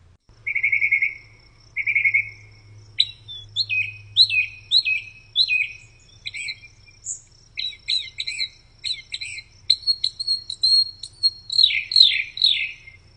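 Northern mockingbird sings short, bright phrases, each repeated a few times before switching, loud and close over a faint low insect-like drone, with no speech.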